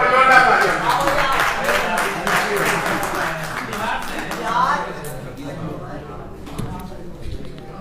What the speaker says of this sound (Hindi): वो जोरदार तालियां